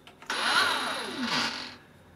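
Makita 40V cordless power head motor spinning up, a brief high electric whine that rises quickly, holds for about a second and a half, then winds down; close and moderately loud, with no talk.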